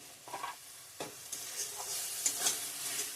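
Spices sizzle and fry in a pan for an egg curry, with green and dry chilli and chilli powder, while a spoon scrapes and stirs in several soft strokes; steady close frying hiss throughout, no voices.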